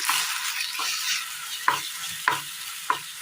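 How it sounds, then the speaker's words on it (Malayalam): Banana paste with jaggery is stirred in hot ghee in a pan: a steady close sizzle broken by a few sharp scraping strokes of the spoon, with no talking. "നന്നായി ഇളക്കി കൊടുക്കാം."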